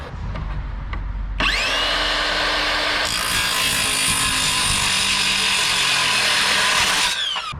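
A power tool cuts down a rear axle for a four-wheeled lawn tractor cart, starting with a sharp jump into a loud, steady, high-pitched whine that holds for about six seconds, then cuts off.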